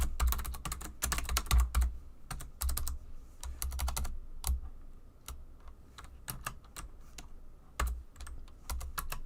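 Rapid, uneven bursts of keystrokes on a computer keyboard, close and fairly loud, clattering in quick runs with short pauses between them and no talking.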